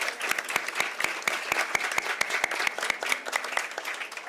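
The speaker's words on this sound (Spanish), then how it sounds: "Un aplauso para Adriana." Steady applause from a seated audience at a ceremony awarding a national children's literature prize, dense clapping continuing evenly throughout without voices.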